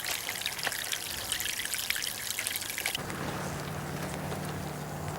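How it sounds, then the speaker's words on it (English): Water drains straight down out of a basin on the equator, giving a steady close trickle and gurgle that shifts to a lower, fuller rush partway through. "as we drain the water, you'll see there'll be no rotation. It just drains straight down"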